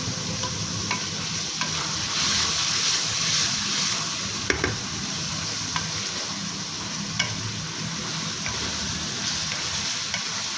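Aloo bungra sizzling steadily as it is fried and stirred in a pan, a continuous bright crackle with occasional clicks of the spoon against the metal.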